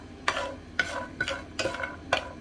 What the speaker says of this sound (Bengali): বড়িগুলোকে ভালো করে মিশিয়ে দিব।